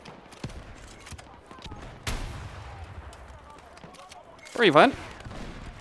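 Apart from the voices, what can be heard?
rocket and gunfire in video game Battlefield 6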